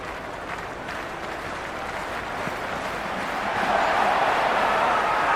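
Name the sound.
stadium crowd applauding in video game Cricket 26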